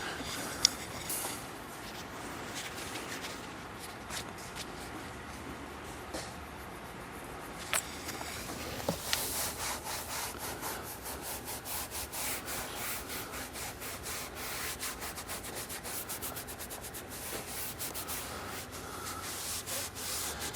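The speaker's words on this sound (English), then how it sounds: "Buff all this off super hard." Vigorous hand buffing of a leather milk treatment off the interior trim of an F10 BMW M5, a steady close rubbing and wiping texture with rapid repeated strokes throughout and no talk.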